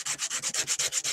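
Sandpaper of 120 grit rubbed back and forth over the raw cut edge of a chrome exhaust pipe, giving about nine steady, even scraping strokes, close and fairly loud with no voices.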